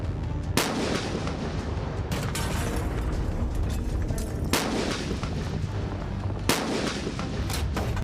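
K9 Vajra self-propelled howitzer firing in mountainous terrain, heard as four sharp, loud blasts spaced a few seconds apart over a constant roaring, rumbling background.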